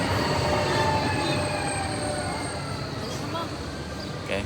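City tram passing, a broad rumbling and rolling noise with faint high squealing tones, steady and moderately near, slowly easing off toward the end.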